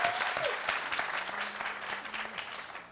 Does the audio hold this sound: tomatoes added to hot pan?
no